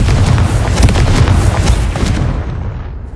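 A loud, sustained blast rumbles from a Confringo spell explosion in the video game Hogwarts Legacy, thick with crackling bursts for a few seconds before the roar fades away at the end.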